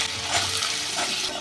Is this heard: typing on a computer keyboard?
no